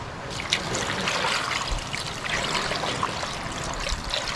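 Water trickles and pours steadily into a cooking pot holding sea shells (aninikad) with onion and a little salt, a continuous close splashing flow.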